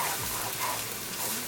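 Garlic, chili and carrot stirred in a hot frying pan, a steady close sizzle with soft scraping movement throughout, no talking.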